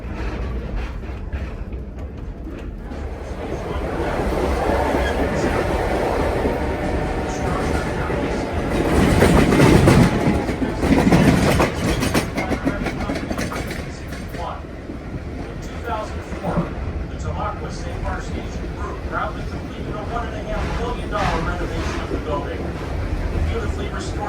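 A steam locomotive train, engine 2102, rumbles steadily along the tracks between Reading and Jim Thorpe, Pennsylvania, with rhythmic clickety-clack and a swelling roar midway, while a voice talks over it.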